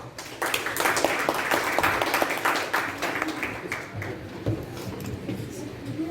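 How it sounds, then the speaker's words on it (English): An audience at a youth leadership programme meeting applauds two student speeches, a burst of crowd clapping that is strong at first, then thins out as voices come in over it. "huge round of applause for them"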